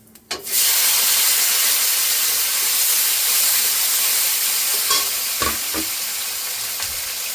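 Tomato, green chilli and onion drop into hot oil left from frying fish and burst into a loud, sustained sizzle that settles into steady hissing, with a few utensil scrapes.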